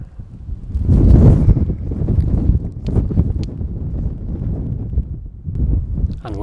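Wind gusts buffet the microphone among the rocks at Brimham Rocks, a loud low rumble that swells and eases in waves.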